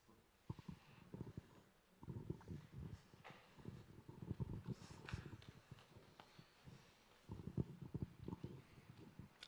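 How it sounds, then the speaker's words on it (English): Crunching footsteps on rock and scattered flower petals, an irregular run of close, moderately loud steps with brief pauses in between, no talking. "The sounds of our footsteps walking on the petals, crunching the rocks."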